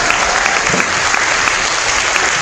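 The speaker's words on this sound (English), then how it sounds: "give our entire panel a big round of applause" Audience applause for a forum panel at an evening community forum on Palestine, a loud, dense, steady burst of many hands clapping close by that fills the whole stretch without talk.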